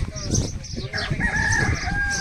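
Village chickens cluck and a rooster crows close by on a farm, with a voice speaking briefly under the birds.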